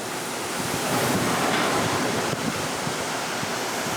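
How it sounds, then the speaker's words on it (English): Hurricane-driven waves crash over the deck of a flooding house, a loud, continuous roaring wash of surf and water with no voices. "the waves are crashing over the deck."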